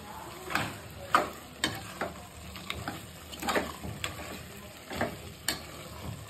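Ginger garlic paste stirred into mutton frying in a pan, with a steady sizzle and a series of scraping strokes from the spoon at a rhythmic pace, close and alone.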